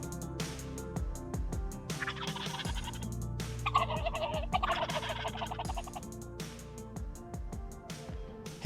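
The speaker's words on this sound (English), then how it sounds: "I do a little Jake yelping and gobbling at them" Wild turkey gobblers gobble in a field during a spring hunt. Several loud, rattling gobbles come close together and overlap one another, with a steady low rumble underneath.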